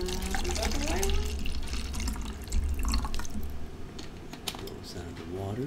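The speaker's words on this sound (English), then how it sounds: "Sound of water." Running water rushes steadily with scattered drips and splashes, close and fairly loud, while voices are heard in the background.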